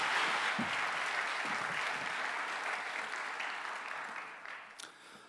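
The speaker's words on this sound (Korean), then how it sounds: "나오실 때 우리 박수로 환영하시면 좋겠습니다." A chapel congregation applauds to welcome a preacher, steady dense clapping that holds at full strength for several seconds before slowly thinning and fading at the end.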